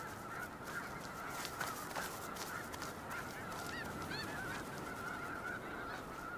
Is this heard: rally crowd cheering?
no